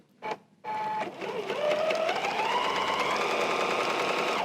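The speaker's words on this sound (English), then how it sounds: "I'm going to stitch down the long side" Sewing machine stitching two pieces of fabric together along a long edge for a table runner, a steady rising whir that runs continuously after a brief start, close and alone without talk.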